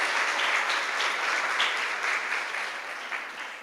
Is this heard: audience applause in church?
yes